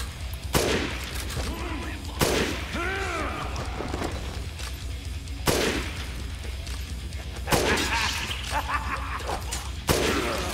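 Gunfire in the video game Dead Rising Deluxe Remaster: a handful of sharp, loud shots spaced a couple of seconds apart, each with a crashing tail, mixed with game noise and scattered effects.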